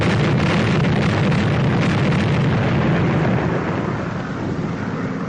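A bomb dropped during an aerial bombing test in a 1943 film erupts as a loud, sustained rumbling blast that rolls on without pause, slowly easing near the end.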